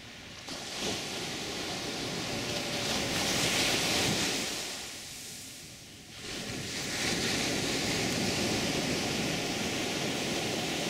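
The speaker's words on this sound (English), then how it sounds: "big waves coming." Big ocean waves crash and roar continuously at Playa Potrero, Costa Rica, a broad rushing surf that swells, dips briefly, then surges back loud, with wind blowing across the microphone.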